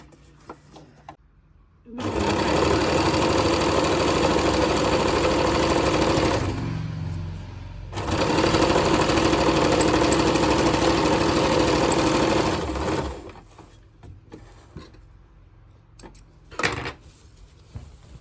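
A sewing machine stitches a churidar pant in two steady, continuous runs of whirring motor and needle clatter, with a short pause between them and near-silence before and after.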